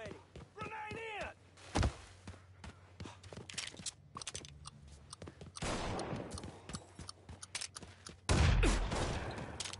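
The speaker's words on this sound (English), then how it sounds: "We got us a gunfight." A Mafia III street gunfight in the French Ward, sharp gunshots and quick bursts scattered across the scene, with heavier volleys near the end, while voices speak between the shots.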